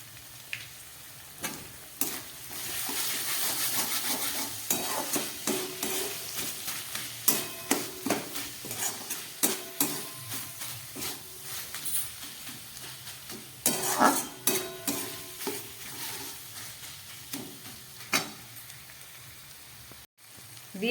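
Vegetable momo filling for atta momos stirred in a hot pan with tomato sauce, chilli sauce and pepper, sizzling steadily while a spatula scrapes and taps the pan in irregular strokes, close up and without speech.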